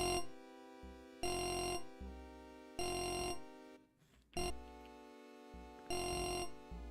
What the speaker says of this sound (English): this fucking alarm is too damn loud.